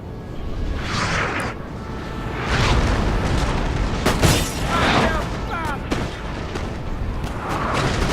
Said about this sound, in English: Seeing the 3 artillery pieces just bombarding the French.